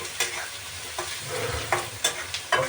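Fresh home-grown curry leaves hit hot oil in a frying pan, giving a few sharp crackling sizzle bursts over a low steady frying hiss, close and moderately loud, with occasional stirring.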